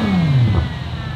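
A Ferrari Tour de France car on a Goodwood track day gives a short, loud engine blip, the note falling quickly as the revs drop away and then settling into a low rumble.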